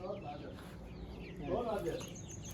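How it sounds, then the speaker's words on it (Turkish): Chicks, one newly hatched in an incubator, on a mountain village farm, peep and chirp steadily under a continuous background hum, with clucking fowl nearby and people talking over the birds. "Bakın arkadaşlar dün akşam e, makineden bir tane civciv çıktı."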